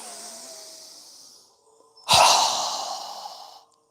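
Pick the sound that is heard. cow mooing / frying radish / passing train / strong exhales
strong exhales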